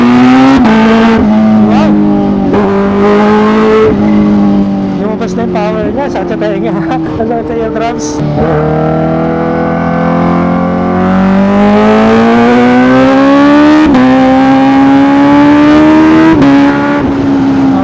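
Supercharged 2023 Kawasaki H2 Carbon motorcycle engine, freshly serviced with new oil, revving loudly and continuously with rising and falling pitch, close to the microphone.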